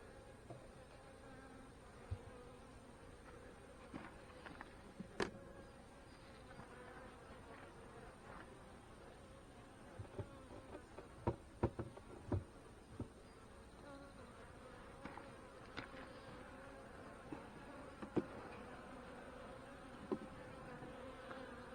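Honey bees forage on fireweed blossoms, their steady buzzing filling the air at a faint, constant level, with a few nearer wingbeats briefly passing close.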